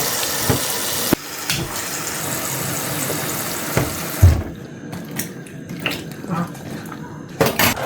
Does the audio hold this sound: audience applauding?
no